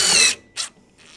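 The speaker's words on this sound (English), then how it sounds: "take the first metal self-tapping screw and work it in" A power drill drives a metal self-tapping screw into a pellet smoker's exhaust, a short loud whirring burst, then a brief second pulse and a faint tail, close and alone.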